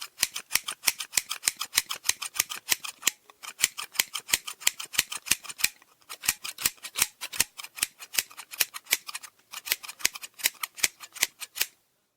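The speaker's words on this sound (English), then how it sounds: "is continuing to cut my hair off with scissors" Crisp scissor snips cutting hair repeat in quick, steady bursts close to the ear, a long series of sharp metallic cuts with brief pauses between runs.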